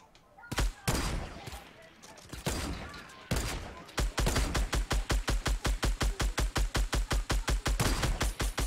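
Gunfire in the video game Fortnite: a few irregular bursts and single shots, then a long, steady run of rapid, evenly spaced loud shots, heard with no one talking.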